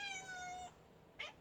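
A wet house cat meows clearly and close, a single drawn-out plaintive call followed by a short second cry, indoors with no talking.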